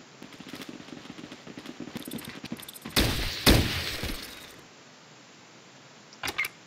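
Gunfire rings out in the Fallout Tactics video game as bugs are shot, with a loud burst of harsh shots in the middle, quieter mechanical game sounds before it and a short sharp report near the end.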